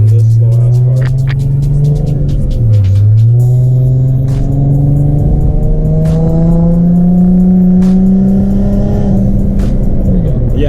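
A turbocharged G35 accelerates under boost, its loud engine drone climbing steadily in pitch over several seconds after a brief dip, then easing off at the end, heard from inside the car.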